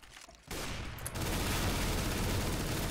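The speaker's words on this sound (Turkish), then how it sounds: "Abi 200 mermi sıktım." Sustained rapid gunfire from a CS:GO JailBreak match, a loud, dense fusillade that starts abruptly after a short quiet moment and continues without pause to the end.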